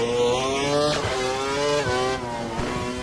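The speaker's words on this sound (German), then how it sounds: "dann machen wir mal die erste Runde hier in unserem neuen Auto, in unserem Sauber" A Sauber Formula 1 car from F1 2012 at Melbourne, its engine a loud, close, high-revving whine that climbs through gears with quick dips at each shift, no voices over it.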